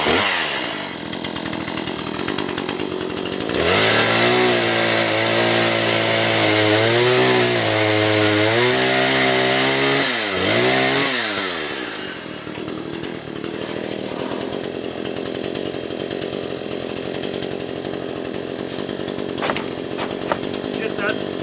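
A chainsaw cuts heavy eucalyptus firewood, loud and close, its engine revving and bogging as the chain bites through the log, then settling into a lower idle with light rustling afterward.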